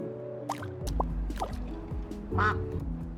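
Several ducks quack in quick succession over a steady electronic soundtrack in the game SCHiM, with a few watery drip-like blips mixed in.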